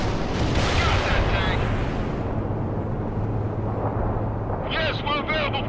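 Artillery fire in the real-time strategy game World in Conflict: a dense, continuous rumble of booms and blasts with battle noise throughout, as voiced unit radio chatter plays over it.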